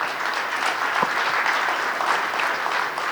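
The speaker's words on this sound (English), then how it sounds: "Please give them a big round of applause." Steady, full audience applause closing a panel discussion at a defence conference, dense clapping from a large hall sustained evenly for the whole stretch.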